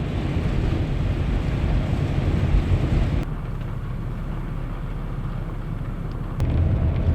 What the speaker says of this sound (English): But man, it is super, super windy.